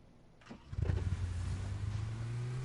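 A car engine in the video game PUBG cranks and catches, then settles into a steady, close mid-pitched drone with a faint rising whine, heard without speech.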